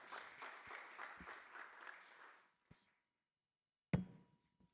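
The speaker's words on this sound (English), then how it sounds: "Please give a round of applause for Dr. Nomoto." Brief applause for a speaker at a climate adaptation focal points meeting, quiet and a little distant, fading after about two and a half seconds, followed by a couple of soft knocks and a sharper thump.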